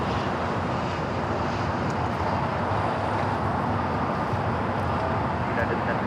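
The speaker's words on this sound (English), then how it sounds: "Next takeoff here on the south side. Copa Airlines Flight 402 heading to Panama City is 737 MAX 9" A Copa Airlines Boeing 737 MAX 9 takes off at LAX, its jet engines a steady, loud broadband roar throughout.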